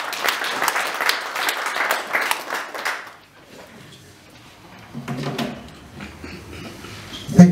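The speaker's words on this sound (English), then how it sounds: "Can you please give him a round of applause, please?" Audience at a symposium tribute gives a round of applause, loud steady clapping for about three seconds, then it fades into quiet room noise with a few scattered sounds.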